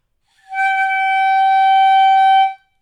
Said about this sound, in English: That's the sound of just the barrel and the mouthpiece.